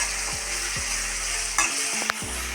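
Salted food fries in a pan with a continuous sizzling hiss, broken by a few spatula scrapes and clinks against the metal, close and fairly loud with no voices.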